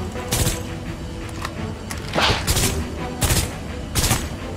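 Video game gunfire from Guardians of Orion during a winter map fight, heard as repeated sharp shots at a steady pace over a busy layer of game music and effects.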